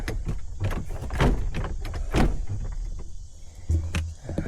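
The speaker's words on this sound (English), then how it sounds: "let's close the door as we found it." Clunks and rattles from a door being handled and shut on private property along the Natchez Trace, a series of close knocks and thuds with a final thump near the end.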